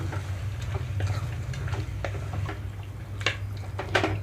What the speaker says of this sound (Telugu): మీడియం ఫ్లేమ్లోనే ఉంచి తాలింపు చక్కగా కూర అంతా కలిసేలాగా కలుపుకుంటున్నాను